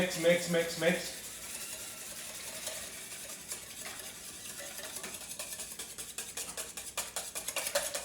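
Cake batter with eggs is stirred by hand in a bowl for a Christmas dessert, a steady rhythmic scraping and tapping of a utensil against the bowl that grows busier toward the end, with a voice talking briefly near the start.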